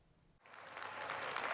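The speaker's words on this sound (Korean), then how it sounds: "관객석에선 반가움의 박수가 터져나옵니다." An audience at a screening of actor Hwang Jung-min's films at the Florence Korean Film Festival breaks into applause, quiet at first and then a steady, swelling clatter of many hands.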